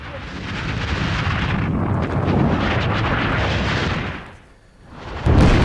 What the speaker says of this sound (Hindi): इस बीच एक बार फिर से आपको हम ये धमाके सुनाते हैं